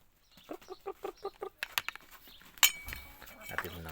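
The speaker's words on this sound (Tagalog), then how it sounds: "Mga manok ko." Rhythmic clucking from backyard chickens near a home garden, a quick series of short calls that gives way to clinks and rustling, with a voice speaking briefly.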